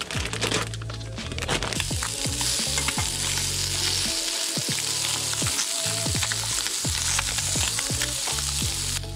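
Crappie fish fillets fry in a hot pan for taco filling, a loud steady sizzle running throughout, broken by sharp crackles, pops and clattering stir noises near the mic.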